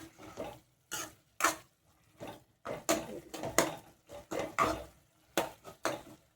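Sautéed carrots being stirred in a cooking pan for carrot rice: repeated scraping strokes of a spoon against the pan, close and clear, in an irregular rhythm with short pauses between them and no talk.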